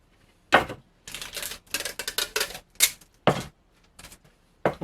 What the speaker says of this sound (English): the best way to stop this from gluing to itself is to put down some packing tape before I glue it.